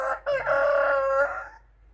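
A rooster crows once, loud and close, a long strained call that trails off into quiet.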